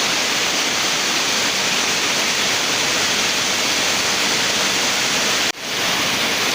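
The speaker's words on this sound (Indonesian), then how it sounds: "Ya Allah, deras banget hujannya." Heavy rain pours down steadily while someone shelters in front of a shop at a wild fishing spot in Bekasi, a loud, dense broadband wash with a brief dip near the end.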